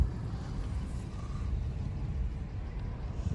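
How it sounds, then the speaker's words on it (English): A running truck with an unidentified fault, its low engine rumble droning steadily and fairly quietly, with no talk. "Hear that noise my truck is making?"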